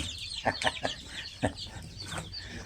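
Chickens in a new coop give several close, short clucks in an irregular run, with light background noise between the calls.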